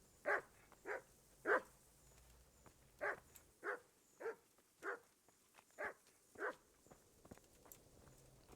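A dog barks in the medieval role-playing game Kingdom Come: Deliverance, giving about eleven sharp, evenly spaced barks close by with no talk over them.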